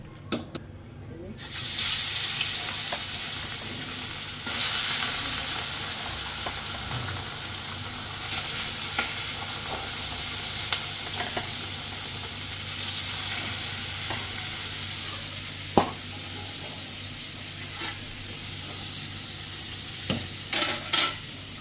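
Taro pieces and green chillies sizzle and fry in a pan while being stirred, a continuous crackle with scraping strokes and occasional clinks, plus a brief sound of running water near the start.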